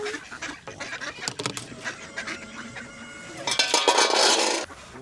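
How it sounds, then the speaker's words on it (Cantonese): Ducks on a farm in New Zealand give a run of honking, nasal quacks, nearby and fairly loud, building into a busier burst of calls toward the end. "啲鴨仔咧係可以自出自入噶"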